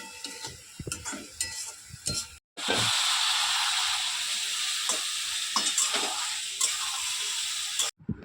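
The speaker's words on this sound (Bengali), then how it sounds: "শাকটা সাঁতলানোর জন্য পুঁই শাকটা সাঁতলে নেবে আমার মা" Malabar spinach (pui shak) sizzles and fries in a hot pan, with steady loud hissing and occasional stirring scrapes, broken by a brief pause before the frying continues.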